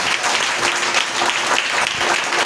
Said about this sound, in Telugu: విశ్వసిస్తే కొట్టు.